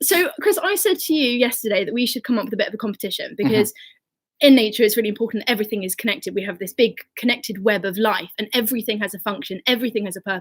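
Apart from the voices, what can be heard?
No distinct noise like a dog, phone or traffic.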